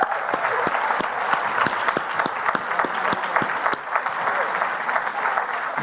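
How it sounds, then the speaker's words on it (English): Conference audience clapping for an investor panel at a real estate summit, a steady, moderately loud roomful of sharp hand claps that continues evenly and then tapers slightly. "Another round of applause for these guys."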